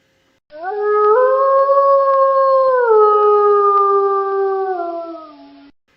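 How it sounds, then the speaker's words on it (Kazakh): A wolf gives one long, sustained howl lasting several seconds, its pitch gliding slowly downward as it fades. The howl is loud, near and heard alone. "қасқыр"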